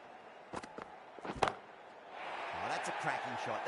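A cricket bat strikes the ball for a six in the video game Cricket 24, heard as a couple of sharp knocks near the middle of the clip, followed by a rising crowd roar.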